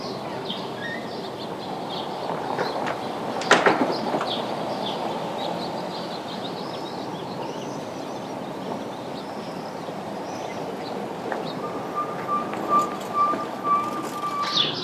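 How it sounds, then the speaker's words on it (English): Birds chirp and sing along the Camino Frances trail in Spain on an early morning hike, faint scattered calls over a steady outdoor wash of ambient noise, with one brief louder knock partway through. "listening to all these birds. So beautiful."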